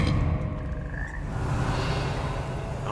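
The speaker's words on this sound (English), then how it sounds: "Another frog, another frog." Frogs croak loudly and steadily in the Hogwarts Legacy video game, a dense continuous croaking chorus with no talk over it.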